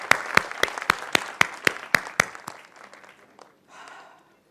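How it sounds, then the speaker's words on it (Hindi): An audience at a business felicitation event in India claps in about nine sharp, evenly spaced beats that trail off into a few scattered claps, heard fairly close. "इनको जोरदार ताली के साथ एक बार थैंक यू"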